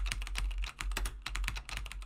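Quick, uneven keystrokes clatter on a computer keyboard, close and clear, with short pauses between bursts of typing and no talking.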